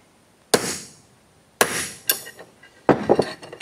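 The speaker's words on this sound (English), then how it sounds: "Now I just want to make just a little center punch hole here." Three sharp metallic hammer strikes on a center punch into metal, the last followed by a few quicker lighter taps, each ringing briefly.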